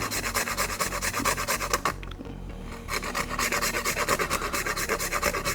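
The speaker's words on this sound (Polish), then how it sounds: "Niecałą połowę gałki zetrzyjcie po prostu do tego" Rapid rhythmic rasping of a whole nutmeg grated back and forth on a grater, close and continuous, with a brief quieter pause midway.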